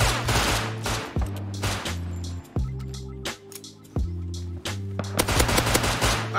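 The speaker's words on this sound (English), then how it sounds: "Why are you shooting?" Rust video game gunfire: several rapid bursts of automatic weapon fire, loud and close, separated by short pauses, with a dense volley at the end.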